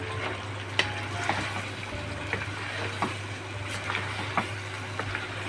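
Chicken karahi, dhaba style with red chili, crushed chili, coriander and turmeric, fries in a pan with a soft, continuous sizzle and occasional faint clicks of stirring, heard close and fairly quiet.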